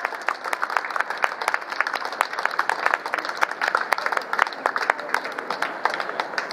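A modest outdoor crowd at a community music festival in Tachikawa applauds a jazz club band, a thinner patter of individual claps with distinct sharp hits, steady for several seconds at moderate distance.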